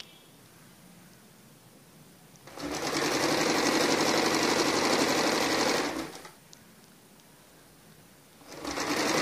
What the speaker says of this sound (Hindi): अब इस पे सिलाई लगानी है।